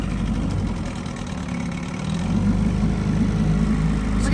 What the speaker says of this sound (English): We don't have reverse on this beautiful Evinrude, because we have to push off.